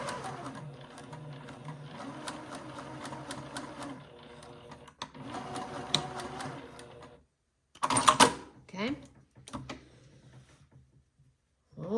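A sewing machine stitches fabric in bursts, a fast whirring mechanical run for several seconds, a pause, then shorter bursts and clicks as stitches are locked, close and fairly quiet with no talk.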